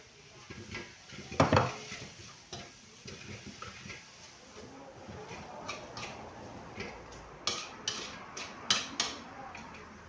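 Chili fried rice being stir-fried in a pan, heard as quiet scraping and metallic clinks of a spatula against the pan over a low background hiss, with sharper knocks growing more frequent toward the end.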